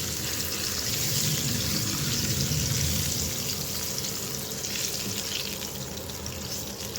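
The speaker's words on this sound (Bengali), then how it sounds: "আমি ডিমটা ভালো করে ভেজে নিচ্ছি।" An egg fries in a pan with a steady, close sizzle that holds at an even level throughout, with no talking over it.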